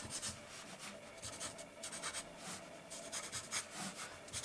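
Felt-tip markers drawing on paper, faint quick scratchy strokes repeating in short bursts, close and soft with no talk.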